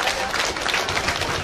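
A crowd at a provincial government ceremony in Lampung, Indonesia, claps briefly, a dense burst of applause with voices and background noise underneath.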